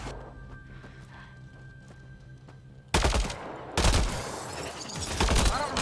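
Sci-fi video game gunfire in Mass Effect Andromeda, loud bursts of rapid weapon fire starting suddenly after a quiet stretch with a steady hum, continuing in dense volleys to the end.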